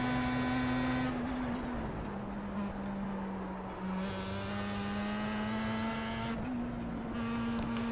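Pro Mazda race car engine at Sebring in a racing game, a steady droning tone that dips and rises as the car accelerates, heard alone without talk.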